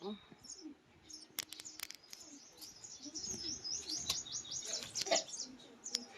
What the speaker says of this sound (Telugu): గూడు పిచ్చుక పిల్ల